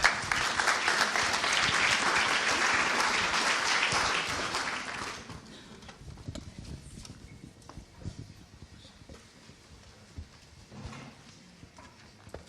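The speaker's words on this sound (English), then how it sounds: "So I would like to give a round of applause for Louise Page." An audience at a library conference claps loudly and steadily for about five seconds, then the applause fades into quiet room noise with scattered small knocks.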